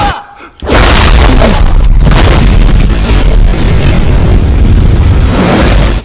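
A massive, roaring explosion erupts suddenly after a brief quiet moment and rumbles on at full loudness for several seconds.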